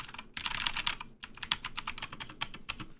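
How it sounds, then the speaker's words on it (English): Typing on a Keychron K4A2 mechanical keyboard with blue clicky switches: sharp, crisp clicks in quick irregular bursts with short pauses, close and fairly quiet, no talking. "This is a Keychron K4A2 with blue switches"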